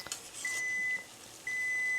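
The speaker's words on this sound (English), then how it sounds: "I'm going to set a timer for 15 seconds." Two sharp electronic beeps from a timer, each about half a second long, evenly spaced in an otherwise quiet room.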